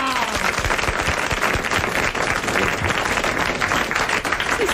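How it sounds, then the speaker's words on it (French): Studio audience at a 1986 French television show applauding steadily, a dense crackle of many hands clapping close and continuous throughout. "tu m'applaudis"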